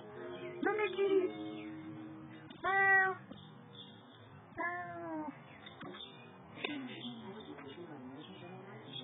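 Several distinct cat meows, close and fairly loud, spaced out over a few seconds against a quiet background.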